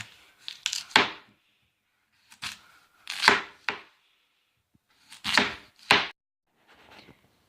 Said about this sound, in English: So I've already washed these potatoes. We're just going to cut them up into smaller pieces.